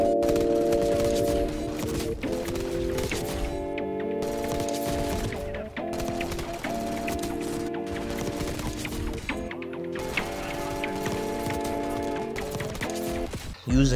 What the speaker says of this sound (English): the gun shoots super quickly and has damn near no ammo in his mag for how fast it shoots, so you're constantly reloading